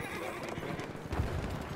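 A horse neighs and its hooves clip-clop in the Battlefield 1 video game, a dense, steady mix with brief louder bursts near the end.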